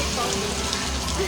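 Rain falling at a beach in Arambol, Goa, a steady close patter of drops on surfaces forming a continuous hiss, moderately loud, with a faint voice briefly underneath.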